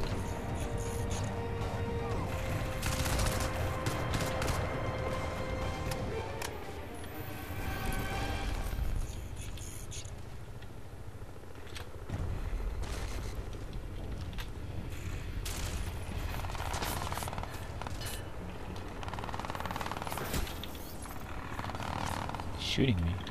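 Rapid bursts of automatic gunfire and crashing impacts from the video game Crysis 2, dense and loud throughout, with sharp individual shots punching through a constant din of combat noise while a voice talks intermittently over it.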